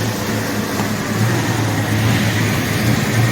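A rebuilt engine in a 1979 Ford F150 idles steadily as it warms up, a loud, close, continuous low rumble with a steady hum and no talk over it.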